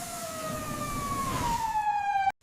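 Police siren wailing close by, a single loud descending tone that sweeps down and then cuts off abruptly, with no talking over it.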